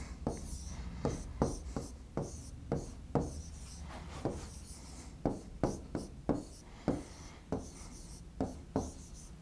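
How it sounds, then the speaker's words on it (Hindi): Marker or chalk strokes scratch across a classroom board as a teacher writes a word, with short rhythmic rubbing strokes in bursts, close and clear, and no talk over them. "मैं इसको यहाँ पे लिख देता हूँ।"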